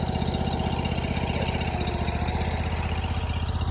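Honda fuel-injected engine on a Ditch Witch 36-inch walk-behind trencher running steadily at low throttle, a loud, close, even engine drone with a rapid, regular pulse and no talk.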